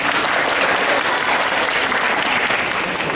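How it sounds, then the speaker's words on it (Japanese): An audience claps steadily and densely throughout, close and loud, at a first-anniversary event for the Otaru Yatai-mura Roman Yokocho food-stall village as each food stall is introduced. "ぜひ拍手の方を送っていただければと思います。"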